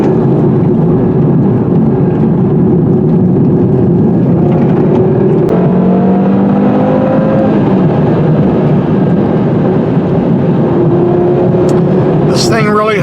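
A 2018 Audi TT-RS with a turbocharged five-cylinder engine drives along with a steady, loud engine drone and road roar, its pitch climbing slightly mid-way as it pulls, while someone talks over it.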